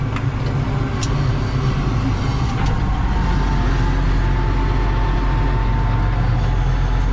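A tractor drives across a field during heavy ploughing, its engine a steady, loud low rumble that runs continuously throughout with no pauses or voices.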